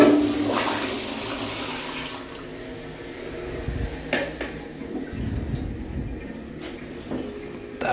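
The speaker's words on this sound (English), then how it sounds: "Let's give this a flush, eh?" A black 2015 Kohler Highline Pressure Lite toilet flushes with a loud pressurized whoosh of rushing water that tails off into gurgling and refilling, with a few sharp clunks near the end.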